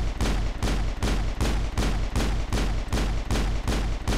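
Pistol fire in the Mass Effect video game, a rapid regular string of about ten loud, punchy shots at an even rhythm, close and dominant with no talk.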